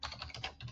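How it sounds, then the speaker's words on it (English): Quiet, rapid keystrokes on a computer keyboard tap out a short run of typing up close. "we're just going to start typing"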